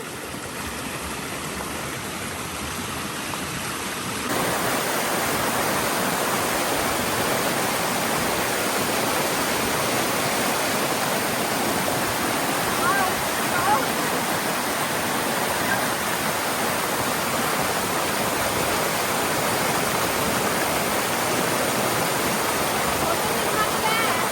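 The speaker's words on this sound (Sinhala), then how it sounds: "මෙතන සැරයි වතුර පාර" A strong flow of water pours at a naturally hot waterfall in Italy, fed from underground volcanic heat, as a dense, steady roar that jumps louder after a few seconds and then holds, close and overwhelming, with no clear voices.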